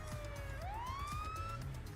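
A video game police car siren, resembling a Dodge or Crown Victoria cruiser, wails in a single rising sweep over steady engine hum, fairly quiet and with no talk.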